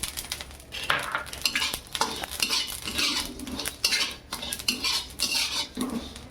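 Whole spices and cumin dry-roast in a pan for homemade Agri Koli masala, with a spatula repeatedly scraping and clinking against the metal in an uneven rhythm. No talking.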